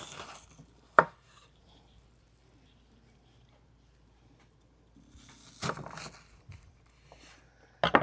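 A knife chops an onion on a cutting board in a kitchen, with a few sharp, separate thuds spaced out over several seconds and faint rustling in between, close and clear.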